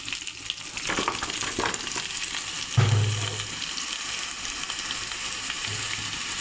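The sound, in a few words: chopped vegetables added to sizzling chicken stew in pan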